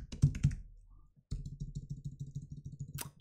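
Keys clatter on a Mac computer keyboard, a short burst of a few presses, then a pause and a rapid run of close, steady typing ending in a sharper click.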